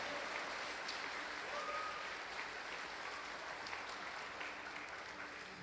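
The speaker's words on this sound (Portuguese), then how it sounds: "Aleluia, aplauda o Senhor." A church congregation clapping in praise during a sermon, a soft, continuous patter of many hands heard from a distance with a faint roomy hiss and no speech.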